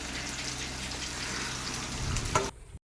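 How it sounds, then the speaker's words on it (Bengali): Water is poured into a pot of mutton curry cooking in oil, a close sizzling, bubbling wash that swells briefly toward the end before cutting off abruptly, with no voices. "তারপর ওই জলটা আমি দিয়ে দেব।"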